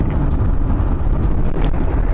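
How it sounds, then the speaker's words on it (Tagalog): Strong wind buffets the microphone beside a newly paved road with fresh road markings, a loud, steady roar of rumbling gusts with no talking. "Talagang may kalakasan yung hangin."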